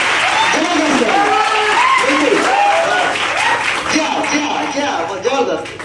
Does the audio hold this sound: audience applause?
yes